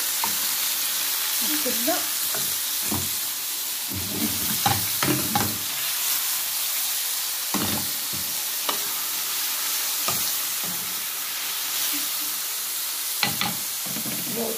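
Liver sizzles in oil in a hot pan, Alexandrian style, with a loud, steady frying hiss throughout, punctuated by clunks of a utensil against the pan; a voice speaks briefly near the start.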